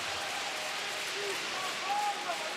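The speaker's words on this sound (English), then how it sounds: "Crowd here in Davos trying to get behind the team from Ambri-Piotta." Spectators at an ice hockey game in Davos cheer for Ambri-Piotta, a faint, steady crowd roar spread across the arena, swelling slightly toward the end beneath a commentator's voice.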